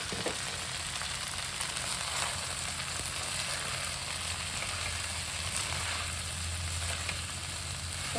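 Butter beans (ghiu simi), seeds and all, bubble gently in a pot on a gas stove, giving a steady, even hiss and soft crackle that holds from start to finish without any talking.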